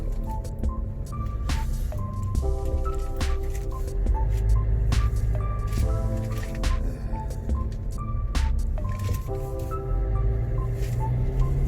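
Continuous low engine drone with road rumble inside the cabin of a low-mileage Kia Sportage R while driving, steady throughout, with faint clicks and tonal hums on top.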